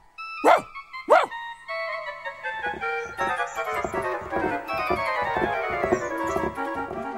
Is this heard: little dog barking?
yes